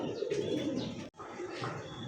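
Fancy pigeons coo softly and continuously at close range, with a brief pause midway and faint chirps mixed in.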